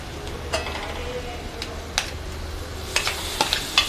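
Chili paste added to onions frying in a pan gives a steady sizzle under sharp clinks and scrapes of a spoon against the pan, close and moderate in level.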